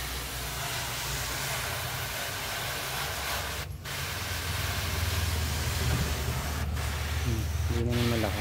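Water sprayed at low pressure onto a silk screen during screen printing makes a steady, soft hiss that runs the whole time, with someone talking over it.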